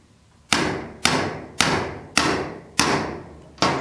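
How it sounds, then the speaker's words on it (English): Six sharp metallic taps from a small hammer striking a punch to set wire in a battery cable terminal, evenly spaced about half a second apart, each ringing briefly up close. "Just a few taps like that."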